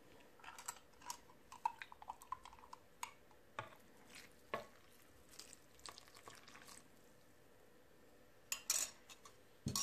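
Doughnut batter being mixed with milk and baker's yeast for Nutella doughnuts, heard as quiet, irregular scraping and clinking strokes of a utensil against a bowl, with a few sharper taps near the end.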